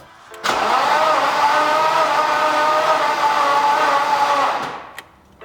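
A project car engine cranks without starting, showing no compression, as the starter whirs evenly and loudly for about four seconds before stopping, with no spoken words during the cranking.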